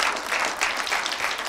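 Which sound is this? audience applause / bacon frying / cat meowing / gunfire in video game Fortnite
audience applause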